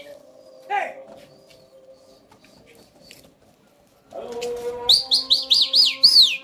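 Homing pigeons arrive at a loft, giving a few soft calls and chirps, with close, louder repeated high calls and fluttering toward the end over faint background noise.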